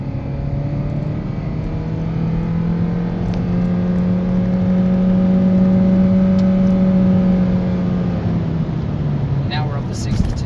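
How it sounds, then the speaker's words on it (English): A 2008 Honda Civic accelerating hard with the pedal floored, engine drone rising steadily in pitch and loudness for several seconds before easing off, heard from inside the car with no speech. "Now you guys are about to see how horrendous the acceleration in this car is."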